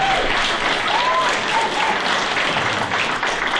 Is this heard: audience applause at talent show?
yes